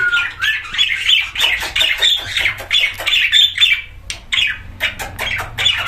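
Pet parrots in a free-flight aviary squawk loudly and repeatedly in harsh, overlapping bursts, with a few quieter chirps and calls between them, close to the listener.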